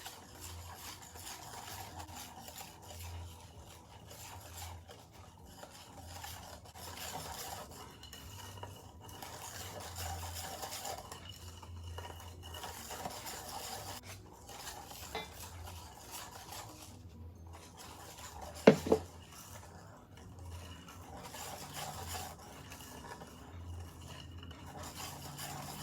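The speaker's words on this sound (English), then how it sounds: "now we're going to slowly add in our flour into the wet ingredients" Flour being slowly stirred into wet sour cream pound cake batter in a bowl, a steady soft scraping and stirring close by with a brief louder clink of utensil against the bowl near the end.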